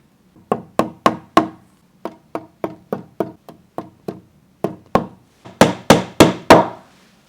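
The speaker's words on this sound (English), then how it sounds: "put a few nails in it just like you would a real horseshoe" Hammer blows drive nails into a 3D printed horseshoe set on wooden pallet boards, sharp, close knocks in quick clusters of three to five, the last group louder, with no talking.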